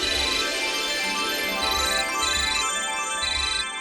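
A mobile phone ringtone plays loud and steady with a repeating melodic pattern and a pulsing beat, an incoming call from a mother-in-law, with no talking over it.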